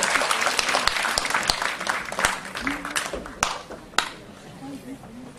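Audience applause at an award ceremony: steady clapping from a crowd with sharp individual claps standing out, while people talk over it.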